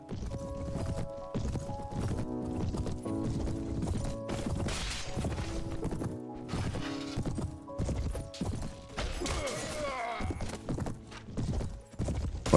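Horse hooves clip-clop at a steady gait in the medieval game Prophesy of Pendor, with tonal background music underneath and a brief clatter near the end.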